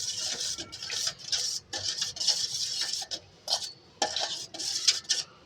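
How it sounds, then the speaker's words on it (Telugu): Dry yeast stirred into a milk bread mixture in a bowl, a spoon scraping and clinking against the sides in quick, uneven strokes with brief pauses, close and alone. "డ్రై ఈస్ట్ వేసాక మళ్ళీ ఒకసారి కలుపుకుందాము."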